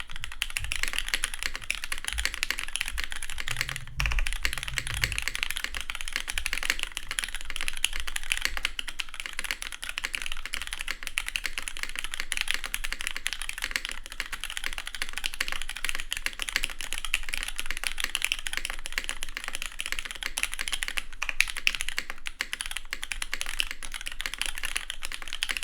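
Continuous typing on a Daji Ocho Cuatro mechanical keyboard with GMK keycaps and Nixie switches on an aluminum plate, a fast steady stream of close, crisp key clacks with no talking.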